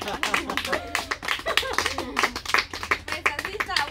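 A small group claps for Dairi at a home gathering about her new kitchen design. The claps are quick and close, mixed with voices talking over them.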